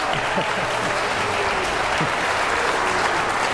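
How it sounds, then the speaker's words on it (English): Sustained audience applause at a Florida political debate, a thick wash of clapping from a crowded hall, with faint voices beneath it. "let's try to ease off on the applause so we have as much time as possible for questions"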